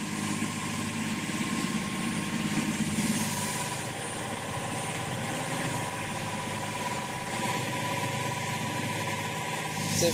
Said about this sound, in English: The deafening sound of the engine is headache-inducing.